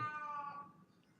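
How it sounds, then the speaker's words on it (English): A cat gives a single drawn-out meow that starts loud and fades away, close by and with no one talking. "a cat meowing there, right?"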